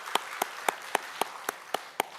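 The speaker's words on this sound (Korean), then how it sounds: "하나님께 영광의 박수를 올려드리겠습니다" Congregation at a Korean church Sunday service clapping in unison, about eight slow, evenly spaced claps, faint and distant with no talk over them.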